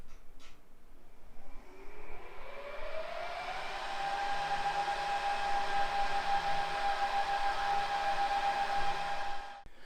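A Dell R720XD rack server powers up, its fans spinning up from a rising whine into a loud, steady whooshing roar with a sustained tone, running close and continuous without speech before cutting off at the end.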